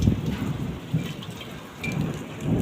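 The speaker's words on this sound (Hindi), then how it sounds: "आधे घंटे से बारिश हो रही है, आधा घंटा हो गया बारिश होने में।" Heavy rain mixed with hail pours down during a storm over farmland, a constant dense patter layered with deep rolling rumbles of thunder, loud and steady with no voices.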